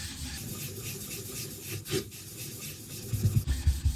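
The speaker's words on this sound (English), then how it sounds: "It's slightly coarse and scratchy sounding under the diamond plate." A knife is sharpened on a coarse natural whetstone with a slurry, giving a continuous coarse, scratchy rubbing with rhythmic back-and-forth strokes, heard up close and alone.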